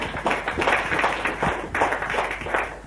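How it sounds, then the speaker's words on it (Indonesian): Brief applause from a seminar audience in Surabaya, a short run of scattered claps rising and falling in uneven bursts, moderately close with no speech over it. "Jadi berikan tepuk tangan untuk Anda semua, ya."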